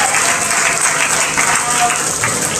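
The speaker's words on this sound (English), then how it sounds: "let's give these 2 young ladies and every one of those hamster exhibitors a huge round of applause" Spectators at a swine show give the young exhibitors a round of applause, a steady wash of clapping from a crowd at fairly close range that fills the whole short stretch.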